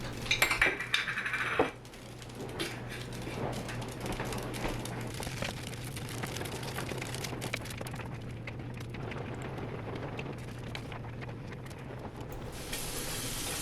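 Dishes being stacked in a kitchen sink: repeated clinks and clatters of crockery and cutlery over running water and a low hum, with a louder clattering burst at the start.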